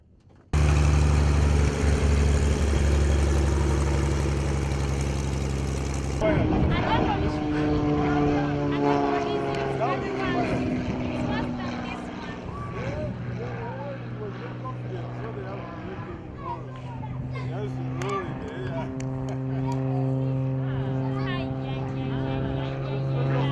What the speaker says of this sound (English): For the first time, aerobatics with Captain Howard